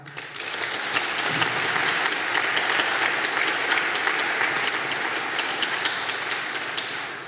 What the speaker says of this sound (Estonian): Üks aplaus kuluks tõeliselt ära.